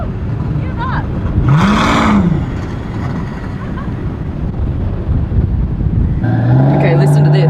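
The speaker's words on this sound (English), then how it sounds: "This car is so loud." A one-off Maybach Exelero's engine roars steadily and loudly, its note swelling and falling once early on before climbing again near the end, with wind buffeting and voices talking over it.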